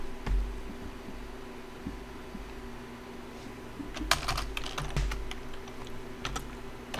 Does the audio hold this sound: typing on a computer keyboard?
yes